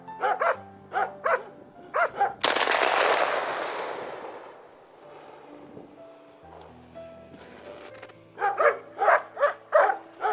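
A single sharp gunshot from a cold, frozen carbine that then fails to cycle, with a long rumbling echo, between bursts of a dog barking repeatedly.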